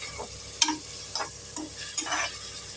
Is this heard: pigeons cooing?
no